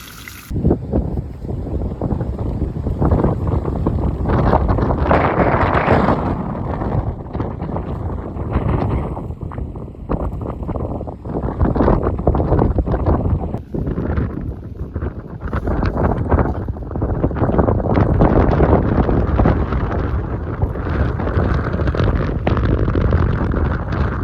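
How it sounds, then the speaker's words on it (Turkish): Strong gusting wind buffets and flaps a tent's fabric continuously at a canyon campsite, a loud broadband roar with surging rumbles throughout. "Bayağı bir rüzgar var. Çadırı sallıyor."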